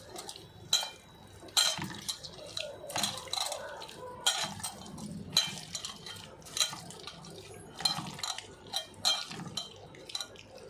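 Chutney mashed by hand in a bowl, giving soft wet squelching and irregular clicks and scrapes against the vessel, close by with steady rhythm and no talk.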